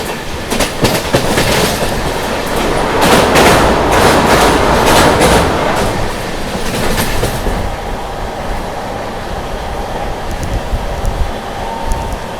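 The Andaman Express train runs at speed, a loud close rush of wheels with rapid clattering rail joints and rattling carriages that dominates for several seconds, then eases into a quieter steady rumble.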